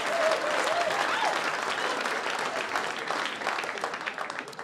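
A comedy club audience at a stand-up special bursts into steady, sustained applause that stays loud and dense throughout, a thick wash of clapping with faint crowd murmur and no talk over it.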